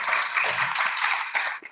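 A church congregation at a worship service in Batam gives a short burst of dense applause, moderately loud and continuous before cutting off, with no speech over it.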